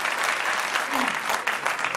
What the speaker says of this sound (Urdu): ایک بار پورے مجمع کو ان کا حوصلہ بڑھانے کے لیے تالیوں کی گونج میں ان کا استقبال کرنا چاہیے